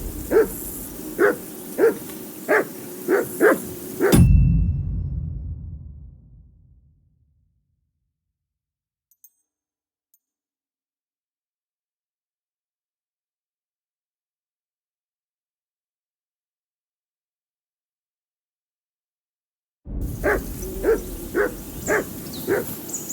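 Dog in the Kingdom Come Deliverance II video game barks in a steady series of sharp, evenly spaced yelps, then falls silent for a long stretch before the same rhythmic barking returns at the end.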